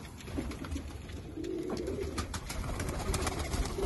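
Pigeons in a breeder loft setup cooing softly and continuously, a low murmuring coo close by over a steady background hum with no talking.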